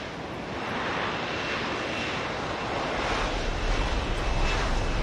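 A steady, loud helicopter rotor whir and vibrating engine roar in the video game Deus Ex: Human Revolution fills the space continuously, broadband and unbroken, with no voices.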